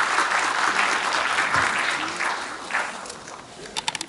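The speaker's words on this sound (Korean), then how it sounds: "박수 한번 쳐주세요." Audience applause at an annual training gathering, dense steady clapping that starts loud and tapers off, ending in a few distinct separate claps.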